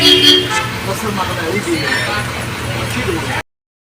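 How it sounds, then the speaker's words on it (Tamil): Steady roadway traffic rumbles close by, with engines droning and a brief horn toot near the start, continuous throughout. "வண்டி சத்தம் சரியாக கேட்கல கசகசான்னு சத்தம் கேட்கு"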